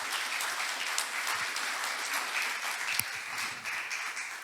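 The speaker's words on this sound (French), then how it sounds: "Ceux qui le croient peuvent applaudir Dieu dans ce qu'il est en train de faire." A church congregation applauds during a worship celebration, sustained dense clapping at low level, fairly distant and uniform, with one sharper clap standing out.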